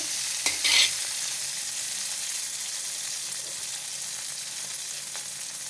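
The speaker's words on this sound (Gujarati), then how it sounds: "ટમેટા સરસ તેલમાં સળી ગયા છે" Tomatoes soften in hot oil in a pan for kadhi, a constant gentle sizzle opened by a brief clatter of utensil against the pan.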